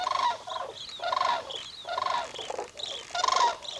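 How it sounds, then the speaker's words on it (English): A flock of common cranes in an open autumn wetland: repeated loud honking calls come in bursts, mixing brown-plumaged juveniles' squeals with the adults' clanging, fairly close with no talking. "The company includes this year's juveniles, distinguished by their brown-coloured plumage and their typical squeal, which is quite unlike their parents' characteristic clanging."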